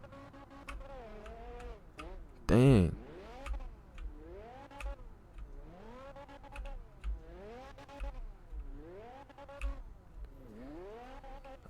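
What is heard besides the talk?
diesel engine revving in Fix It Up video game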